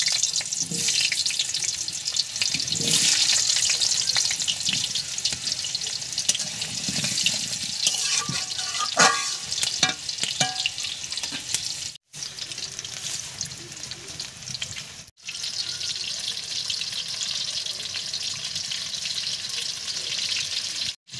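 Potato pieces fry in mustard oil, giving a steady hissing sizzle with occasional clatters and scrapes of stirring, briefly interrupted by a couple of abrupt cuts.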